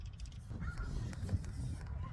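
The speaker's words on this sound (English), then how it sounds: "that raven came over this way, the crow" A crow caws faintly at a lake in Belmar, with geese landing nearby, its harsh calls thin over a low outdoor rumble and soft background noise.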